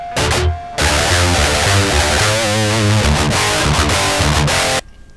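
An electric guitar played through a Torpedo Captor with no impulse response loaded gives a harsh, buzzy, fizzy distorted tone, with chords and short note runs for several seconds before stopping abruptly.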